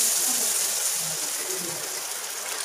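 Water pours steadily into a mixture of yogurt and gram flour, a continuous rushing splash with no pauses.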